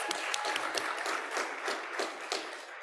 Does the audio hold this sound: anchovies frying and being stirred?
no